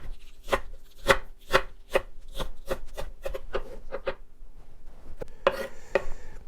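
A knife whacks vegetables on a chopping board for soup, about a dozen sharp, evenly spaced blows close by, followed by a looser cluster of quicker cuts.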